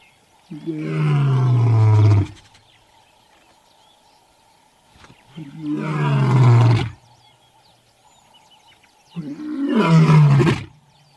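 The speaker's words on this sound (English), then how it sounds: "Its roar can be heard for 8 kilometers." A lion gives three deep, drawn-out roars close by, each lasting about two seconds and separated by a few seconds of quiet.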